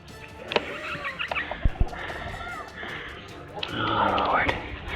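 Chickens cluck and chirp softly in a cold, wintry setting, with scattered short calls and small clanks nearby while a person talks over them.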